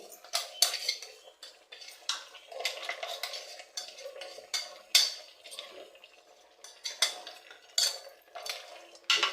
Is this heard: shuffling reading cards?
no